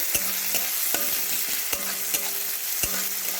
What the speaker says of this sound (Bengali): এবারে এর মধ্যে দিয়ে দিচ্ছি কুচিয়ে রাখা পেঁয়াজ আর পেঁয়াজটাকে খুব ভালো করে ফাইন করে কুচিয়ে নিয়েছি পেঁয়াজটা একটু সামান্য ভাজা ভাজা করে নেব